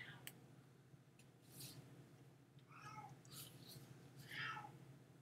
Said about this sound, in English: The cat is harassing me.